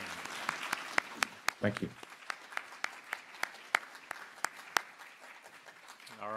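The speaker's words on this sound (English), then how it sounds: "Can we give a round of applause?" Sparse, scattered clapping from a small audience, individual claps distinct and irregular, with a brief spoken thanks partway through.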